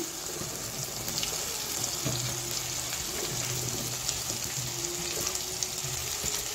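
Okra (bhindi) frying in a pan with turmeric gives a steady, soft, close sizzle with faint crackles, continuous and even throughout.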